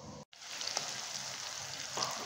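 Cumin seeds sizzle in hot mustard oil with a steady, close crackle that briefly drops out at the start, then swells slightly near the end.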